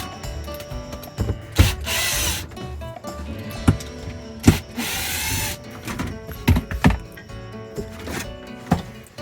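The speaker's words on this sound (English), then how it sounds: "we're gonna undo these 4 Phillips screws for the lower valance." Power driver backing out four Phillips screws from an RV's lower valance panel, bursts of whirring drill spin separated by clicks, rubbing and handling knocks, close and fairly loud with no talk.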